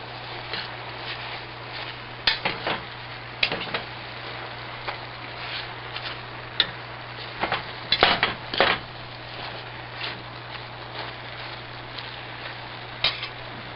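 Uncooked and cooked wild leek ribbons are stirred together in a pan, making soft scraping and intermittent clinks of a utensil against the pan in uneven bursts.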